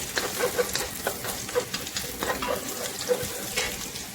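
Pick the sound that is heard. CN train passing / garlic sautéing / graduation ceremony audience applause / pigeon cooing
garlic sautéing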